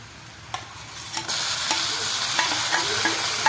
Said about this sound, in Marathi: आता कांदा चांगला परतून झाला की त्यात टॅमॅटो घालायचा